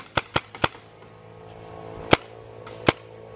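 Paintball guns fired during an outdoor battle at the Cu Chi tunnels: three quick sharp pops close together, then two more single shots spaced apart, over quiet background.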